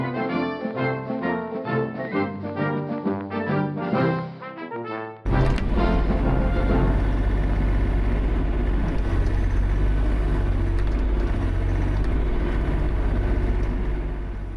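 Tuneful music plays for about five seconds, then a roughly 10,000-pound skid steer cuts in with a loud, steady engine roar as it strains to pull a machine down into a dug-out hole, holding near and constant to the end.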